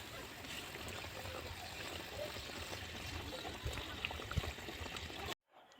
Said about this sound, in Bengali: এবার আমি ঝোলের মধ্যে মাছ দিয়ে দেব।